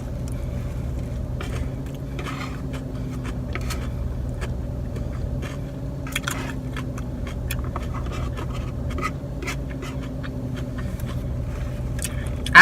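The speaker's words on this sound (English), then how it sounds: "The air blowing, the car running." Inside a parked car, the engine idles with a low steady hum while the air conditioning blows a constant airy rush, punctuated by small clicks and rustling handling noises close by.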